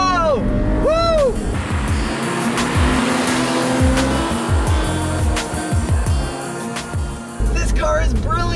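A Porsche Boxster with just over 100,000 miles is driven hard on a track, its engine revving and roaring loudly through repeated gear changes while the tires squeal sharply in several bursts through the corners.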